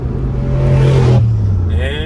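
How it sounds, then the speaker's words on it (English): A turbocharged Ford Mustang roars past, its engine note swelling loud and close for about half a second before fading beneath the steady drone of the car it overtakes. "just passed us with a turbo Mustang"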